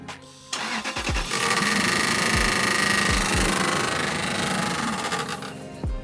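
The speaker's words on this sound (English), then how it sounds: "fan blade is hitting our tubing here" A V8 Toyota 4Runner fitted with an aftermarket intake cranks and fires up, then idles loudly as the fan blade repeatedly strikes the intake tubing, giving a harsh buzzing rattle over the engine for several seconds.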